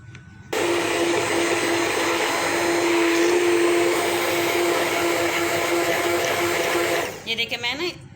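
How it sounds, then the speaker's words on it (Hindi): A blender whirs steadily for about six and a half seconds, blending pumpkin with cold water for a summer energy drink, loud and close before winding down at the end. "अब मैं इनको ना सारी चीज़ों को ना ब्लेंड कर लूँगी।"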